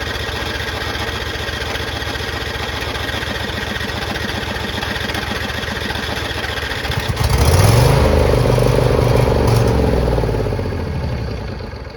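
A neglected John Deere engine cranks rhythmically with a jump pack attached, then catches and runs briefly with a louder, rougher burst before fading back down.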